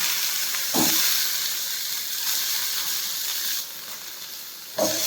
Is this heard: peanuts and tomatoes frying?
yes